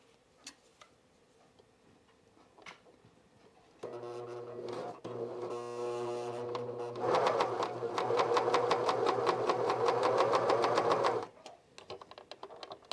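A cover stitch sewing machine runs knit binding through a binding attachment, starting with a motor whir and then breaking into a loud, rapid ticking stitch rhythm for several seconds before stopping, with quiet handling sounds before and after.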